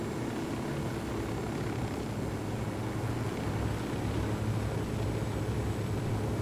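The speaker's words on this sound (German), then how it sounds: "Oh, da ist ein feindlicher Helikopter." An enemy helicopter in the video game Ghost Recon Wildlands gives a steady, unbroken rotor and engine drone at moderate volume throughout, with no voices.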